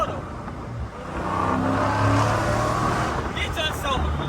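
A loud Dodge Challenger Scat Pack engine rumbles steadily at close range, its low drone swelling and holding, with a voice talking over it.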